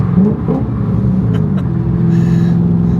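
A Chevrolet Corvette C6 with a manual transmission drives along, its engine giving a loud, steady low rumble heard from inside the cabin with faint road noise and no talking.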